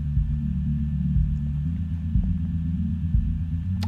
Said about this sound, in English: it takes away all the frequencies above about 320 hertz,